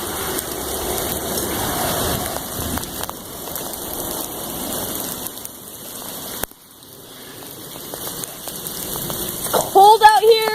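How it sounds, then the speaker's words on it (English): Steady rain patters on surfaces outdoors throughout, with a brief break and rising bursts near the end, while a person speaks faintly. "starting to rain"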